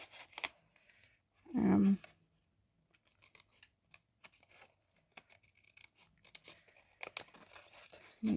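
Card paper for a diorama greeting card is snipped with scissors, a few short close cuts and crinkles with one louder rustling handling burst, in a quiet room.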